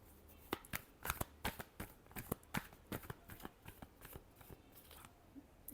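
Tarot cards being shuffled in a series of crisp riffling snaps and soft slaps, a steady run of close, brisk bursts with short gaps and no talk.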